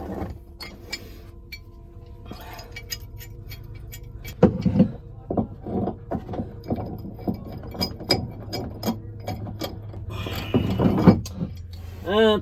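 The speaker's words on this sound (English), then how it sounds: "Next I could try this little pipe wrench." A small pipe wrench is tried on a boat depth transducer fitting, giving close, irregular metallic clinks, scrapes and rattles with a few sharper knocks along the way.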